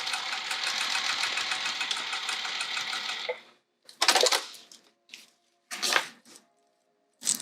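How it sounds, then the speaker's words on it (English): Sewing machine joining vinyl bag pieces, a close, loud steady whirring run for about three seconds, then stopping, followed by a few short stitching bursts separated by silences. "I'm gonna sew these two pieces together and then the other swivel"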